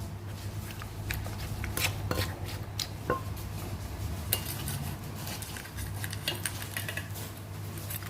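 Long bean salad with shrimp paste and sugar being pounded in a mortar, producing irregular clacks and knocks with steady background hum and no talking.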